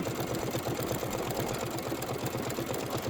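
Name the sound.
embroidery machine stitching out a Kimberbell design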